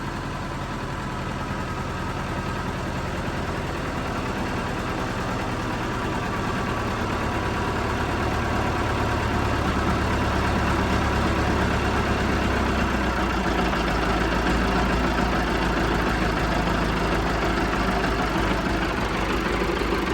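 A John Deere 450 bulldozer's diesel engine roars steadily at full revs, a continuous loud drone with a deep low rumble and no talk.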